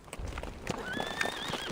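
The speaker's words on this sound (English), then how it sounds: "Sergei pulls hard on the reins, stopping his horse just before the crest" A video game horse whinnies and its hooves clip-clop to a stop as the rider reins in, the neigh rising clearly over the hoofbeats at moderate volume with no talking.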